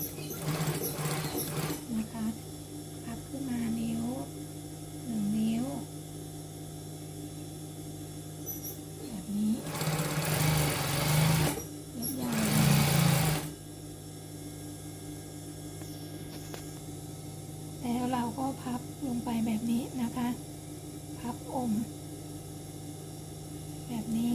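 A domestic sewing machine stitching a single seam on fabric for a garment, two short loud bursts of rapid mechanical whirring around a steady background hum, with someone talking at moderate level before, between and after.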